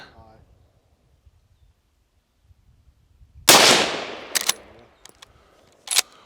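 A Marlin 1894 rifle chambered in .218 Bee fires one loud, sharp outdoor shot that rings out and decays. A few fainter clicks and pops follow after a quiet start.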